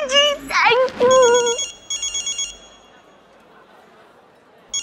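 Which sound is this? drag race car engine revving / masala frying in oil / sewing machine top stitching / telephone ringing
telephone ringing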